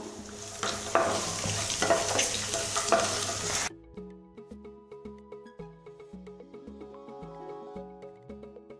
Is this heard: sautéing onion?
yes